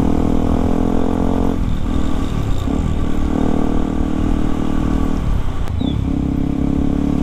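A Yamaha WR155R supermoto motorcycle engine runs close by, a loud, steady idle with a couple of brief dips and blips in the revs, with no talk over it.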